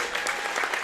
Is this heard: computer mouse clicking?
no